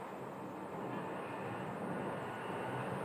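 An Embraer 135 regional jet departs from Phoenix Sky Harbor airport, a steady, broad engine roar that swells slightly and holds without talk.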